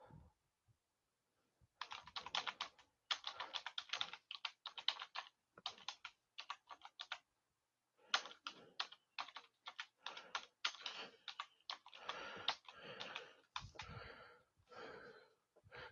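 Bursts of close, quiet typing on a computer keyboard, rapid clicking runs broken by short pauses, with no speech.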